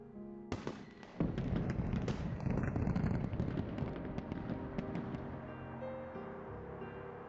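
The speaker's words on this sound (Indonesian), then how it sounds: "Aku ingin merancang pertunjukan kembang api yang unik." Fireworks bursting at a distance, a sharp crack followed by a dense rolling rumble of crackling explosions that slowly fades, with no voices.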